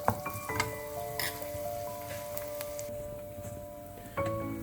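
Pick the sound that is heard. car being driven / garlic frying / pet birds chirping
garlic frying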